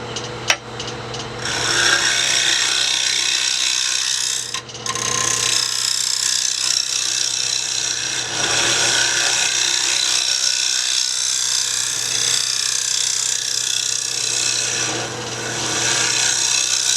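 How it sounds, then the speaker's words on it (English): A bowl scraper rasps steadily against a spinning cedar bowl on a lathe, a loud continuous scraping hiss over the motor's low hum, with brief breaks as the tool lifts off. "We're going to get out our bowl scraper."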